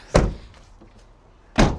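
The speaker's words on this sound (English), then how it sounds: "So I'll close these doors." Two doors of a Nissan Patrol shut one after another, each a solid, close, heavy thunk, separated by a quiet gap of about a second and a half.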